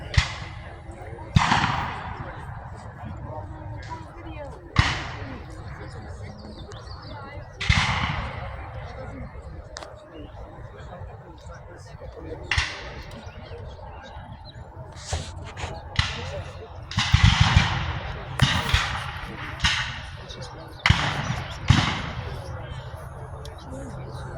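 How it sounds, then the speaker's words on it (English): Civil War battle reenactment at Old Bedford Village, with cannon and musket gunfire cracking out in irregular bursts, some single and some in rapid clusters, at middle distance, with people talking among the spectators between shots. "They're firing the cannon."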